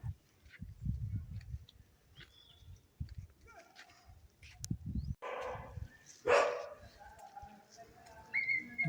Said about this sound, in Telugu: ఇక్కడ చూడండి, కుక్క మనకి ఏదో స్వాగతం పలుకుతున్నట్టు అరుస్తుంది.